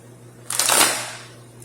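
A deck of tarot-style cards is shuffled once, a single brief riffling burst that swells and fades over a low steady hum, close and fairly loud.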